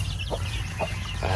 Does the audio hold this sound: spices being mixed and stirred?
no